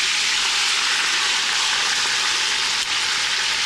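Pork skin braciole searing in a pan, a loud, dense, steady sizzle of hot fat that runs unbroken from start to finish, close up, with no voices.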